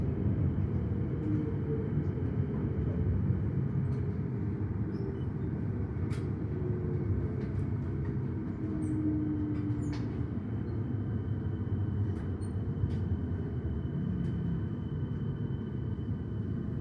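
A Melbourne Frankston Line train arrives at Kananook station, giving a steady, low rumble that holds at an even level throughout, with faint higher clicks and squeaks over it.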